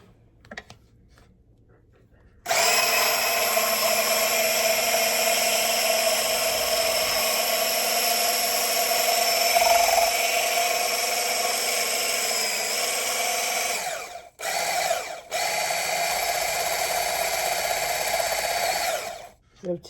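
Acekool hand blender whirs in a cup of cashew milk and matcha latte with almond skinny syrup, a steady high motor whine that starts abruptly, briefly cuts out twice near the end, then resumes.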